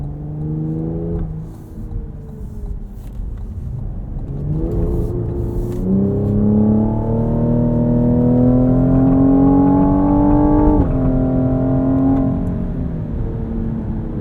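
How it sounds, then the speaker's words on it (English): A 2020 Cadillac CT5-V AWD engine revs hard in track mode and rises in pitch, with quick gear shifts breaking the climb into steps; loud and close, no talking. "These shifts are super quick, and you can hear also in track mode"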